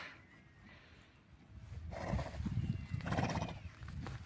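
A Belgian draft stallion among a herd of mares and a foal, with snorting and hoof shuffling rising midway, fairly close, over steady outdoor background noise.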